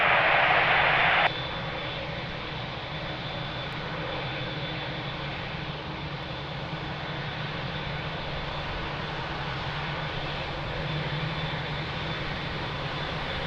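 A jet airliner approaches Lisbon Airport, a steady distant engine roar and broad rushing drone that holds at an even level, with a brief brighter burst at the start.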